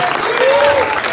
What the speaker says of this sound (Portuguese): Vamos aplaudir esse irmão.